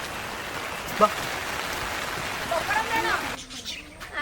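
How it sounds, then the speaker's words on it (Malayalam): Steady rain hisses continuously in the background as voices speak over it. "മഴ തുടങ്ങി തോന്നുന്നു"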